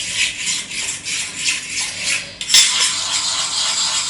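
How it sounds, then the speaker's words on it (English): Chicken being stirred into a lemon juice marinade in a bowl, with repeated close scraping and rubbing strokes of a utensil against the bowl and a sharp clink partway through. "Now we're just going to mix that together"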